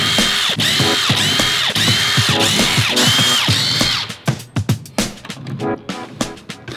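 A power drill backs screws out of a wooden shipping crate, several loud whirring bursts in quick succession, then rattling, clunking handling noises as the drill stops.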